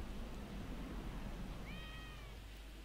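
A cat in Grand Theft Auto V lets out a single short, faint meow that starts partway through. It sits under loud, steady game background noise and rumble.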